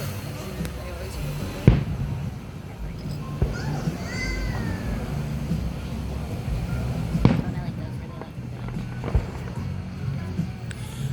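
Fireworks go off on an evening in early July, a few sharp bangs and crackles spread out over distant popping, while children play and people talk and call out close by.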